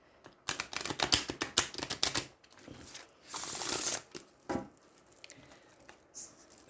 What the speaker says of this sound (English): So they shuffle quite well, and they probably would shuffle fine if you happen to have larger hands.